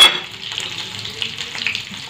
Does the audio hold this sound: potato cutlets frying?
yes